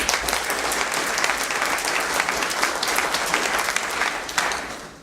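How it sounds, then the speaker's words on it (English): A large crowd at a political Labor Day breakfast applauds steadily, dense clapping filling the space at a constant loud level before tapering slightly at the end. "Let's give them another round of applause."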